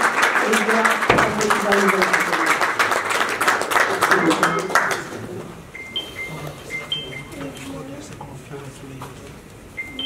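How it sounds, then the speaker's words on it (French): A crowd at a Congolese community evening gathering in Champaign, USA claps loudly and steadily for about five seconds to welcome a speaker, then the applause fades into quieter background sounds with faint tones. "Sous vos applaudissements"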